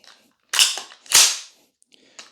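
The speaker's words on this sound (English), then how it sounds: "Put the weapon on fire. Squeeze it for a click." Colt M4 carbine during a function check, a few sharp close mechanical clicks and snaps separated by short silences, with no talking.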